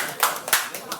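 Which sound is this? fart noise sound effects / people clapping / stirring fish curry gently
people clapping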